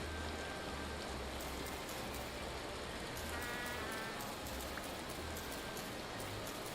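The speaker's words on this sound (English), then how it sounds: "I'm being pelted by hail." Hail falls in the video game Vintage Story as a dense, continuous hiss of pelting ice, loud and unbroken with no voices.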